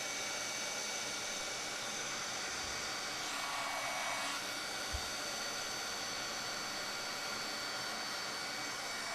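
A craft heat tool blows hot air to melt embossing powder on a note card: a steady, loud, hissing whir lasting throughout, with a couple of faint bumps.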